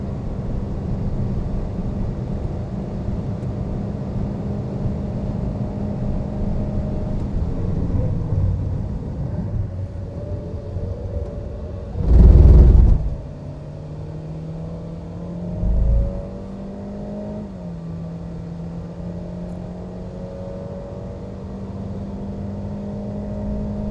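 Race car on cheap Chinese sports tires lapping Fuji Speedway, heard from onboard: a loud, steady engine drone with shifting pitch as it revs, broken by a brief heavy thump midway and a smaller bump shortly after.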